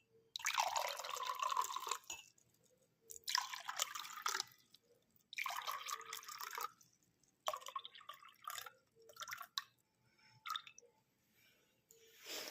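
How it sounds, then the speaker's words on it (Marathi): Water is poured from a container into three glasses one after another, with several short splashing, trickling bursts separated by pauses, faint and close with no talking. "ह्या तीनही ग्लासमध्ये डेमो करण्यासाठी आपण पाणी टाकूया."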